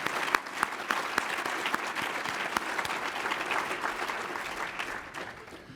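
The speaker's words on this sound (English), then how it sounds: "needs a round of applause" Audience applause at a school district address, a crowd clapping with sharp individual claps standing out, steady for several seconds then tapering off toward the end.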